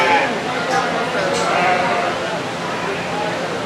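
Piebald sheep bleat a few times at a county fair in Box Butte County, the calls mid-distance amid crowd murmur and a voice over a loudspeaker.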